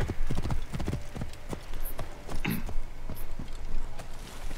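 Horses' hooves clip-clop steadily on a hard surface in the video game Assassin's Creed Origins, several animals trotting nearby with a brief whinny in the mix.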